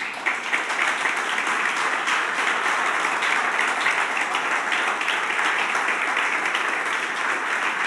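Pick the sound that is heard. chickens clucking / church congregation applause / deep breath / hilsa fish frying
church congregation applause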